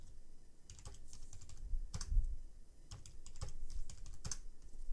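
Someone types a password on a computer keyboard, fast irregular clicks and clacks in short bursts with a louder tap near the middle, close and clear in a quiet room with no voices.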